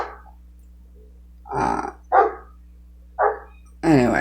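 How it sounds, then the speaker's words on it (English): A dog barks several times in short, loud bursts indoors, with a steady low hum underneath and no talking over the barks. "You hear my dog?"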